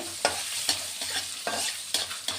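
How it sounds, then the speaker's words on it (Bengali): Turmeric, salt and spices frying in a pan with garlic, stirred in quick scraping strokes about every half second over a faint sizzle, close and moderately quiet, no voices. "হলুদ, দিয়ে এবার নাড়াচাড়া করব।"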